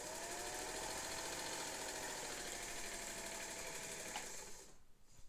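A vintage sewing machine motor with a newly fitted belt runs fast and steady, a close, loud, even whirring hum that carries on for several seconds and then winds down and cuts out near the end.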